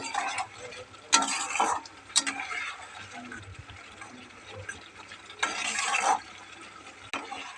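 Prawns are stirred into a spice paste that has been fried until the oil separates, producing bursts of scraping and sizzling frying with pauses between stirs, close and moderately loud with no talking.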